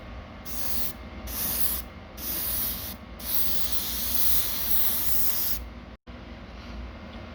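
Chrome spray paint hisses from an aerosol can in several close bursts, short puffs first and then a longer steady spray, with a sharp click near the end and faint room noise between.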